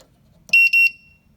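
Two short, high electronic beeps from an Amazon Basics steel security safe with an electronic keypad, close and clear in an otherwise quiet room.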